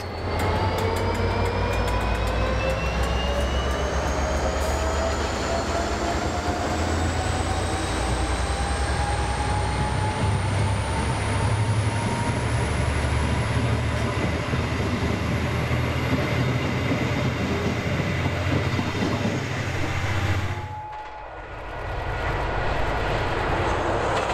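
A train rolls past stored passenger carriages at Taumarunui, New Zealand, a steady loud rumble with rising engine tones that holds for over twenty seconds, dipping briefly near the end before resuming.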